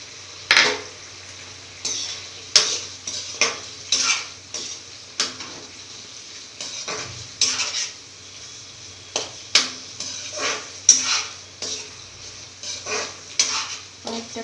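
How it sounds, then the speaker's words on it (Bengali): Paneer cubes cooking in a kadai with spices, repeated sharp scrapes and clinks of a spatula against the metal pan over a soft low sizzle, close and irregular throughout. "এবার আমি পনিরগুলো কড়াইতে দিয়ে দেবো আস্তে আস্তে।"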